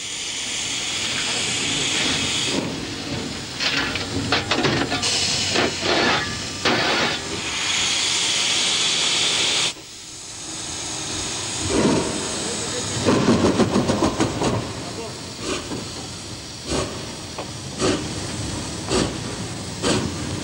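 O gauge model steam locomotives run on a layout with long trains crossing viaducts, the track raised 1.5 m above the floor. A steady steam hiss sits over rolling rumble, with sharper bursts and clatter rising and falling across the run.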